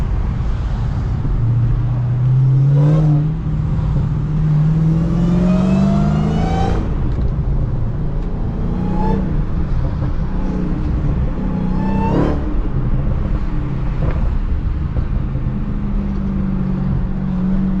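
A Dodge SRT Hellcat engine revs and accelerates while racing a BMW M340i, with a few sharp exhaust pops and crackles cutting through the steady roar.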